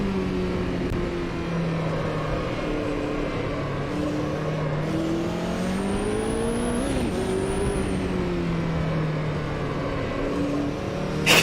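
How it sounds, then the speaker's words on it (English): A turbocharged race car in Automobilista 2 drones loudly and steadily, its engine note rising and falling through gear changes while a high turbo whine climbs midway, with no talk. "You can definitely hear the turbo sucking away."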